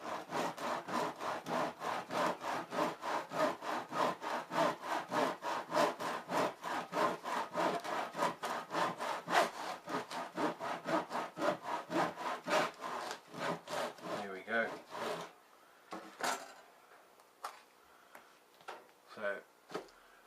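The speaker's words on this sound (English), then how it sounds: "The cork is very soft, so it will separate quite easily." Soft cork being pulled apart and worked on a workbench, a steady run of rapid rasping, rubbing strokes close by for most of the span, then sparser separate scrapes and clicks toward the end.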